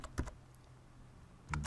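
Keys clatter on a computer keyboard as a macro description is typed, with a few quick clustered taps at the start and end and a quiet pause between, close and fairly soft.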